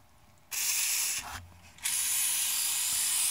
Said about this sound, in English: I'm going to spray lots of fluid film